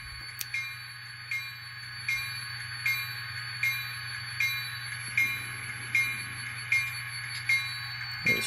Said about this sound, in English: Definitely a potent sanding valve. And let's see if we can hear this, hear the spitters.